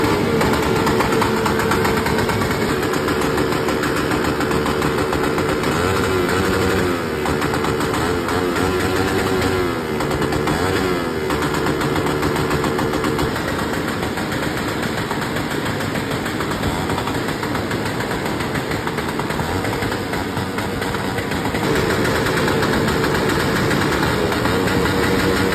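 A motorcycle engine runs steadily and loudly for a long stretch, a rough, rattling idle with surges of revving, heard up close with no talk over it.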